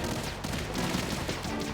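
Gunfire in the video game Metal Gear Solid 2: a dense, continuous burst of rapid shots filling a short moment, loud and busy, with no pauses.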